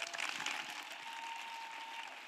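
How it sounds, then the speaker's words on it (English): A church congregation claps steadily throughout, a dense and even wash of applause filling the room with no voices over it. "Acclamez pour Jésus. Clap for Jesus."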